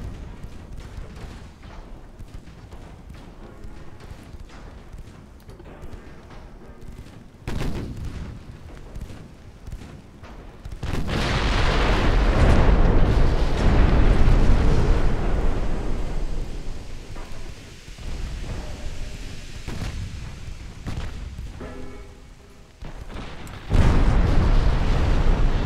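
Heavy battleship guns boom in Ultimate Admiral Dreadnoughts during a Bismarck versus Littorio engagement, with deep rumbling salvos and a sustained roaring blast midway, plus another loud report near the end.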